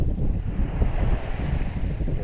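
Off the Corsican coast near the Désert des Agriates, a sailboat rides through wake from passing boats under roughly eight knots of breeze, giving a continuous low rush of wind buffeting the microphone and water sloshing against the hull.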